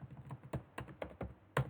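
Close, quiet typing on a computer keyboard, a short run of distinct key clicks in uneven rhythm with no voices.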